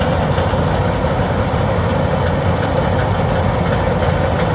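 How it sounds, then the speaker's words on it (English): GPS-guided farm machine running in a field in Lincolnshire, a loud, steady low engine drone with rough vibration that stays constant throughout, no voices. "Started the machine up, put it in gear."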